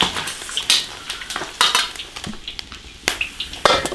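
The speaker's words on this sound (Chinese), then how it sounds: "鱼炸焦黄了，把它捞出来" Small whole fish, deep-fried golden in oil in an iron wok, scooped out with a metal utensil: sharp scraping clicks and clinks come in irregular bursts over a soft frying crackle.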